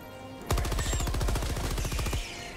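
A weapon in the video game Helldivers 2 fires one rapid automatic burst lasting under two seconds, a close, sharp stream of evenly spaced shots that starts and stops abruptly.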